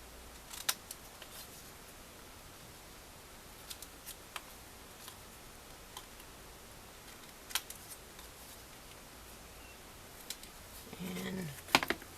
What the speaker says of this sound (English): let's snip the edges of these.